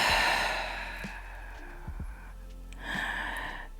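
Deep, slow exhale during a winter yoga breathing practice, a soft airy sigh trailing off and then rising again as the next breath starts, close and quiet with no talking.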